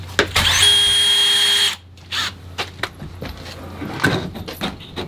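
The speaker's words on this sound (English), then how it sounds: "Let me get some screws in it." Power drill driving screws into a window frame during an old cabin remodel, one loud whirring burst of over a second, then quiet knocks and handling sounds nearby.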